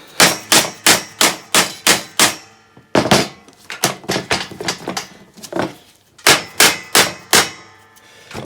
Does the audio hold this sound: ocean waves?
no